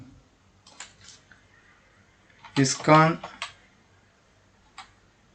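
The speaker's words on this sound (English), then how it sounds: "I am typing like that." Sparse computer-keyboard keystrokes tap faintly and irregularly, with a brief burst of speech in the middle and a lone click near the end.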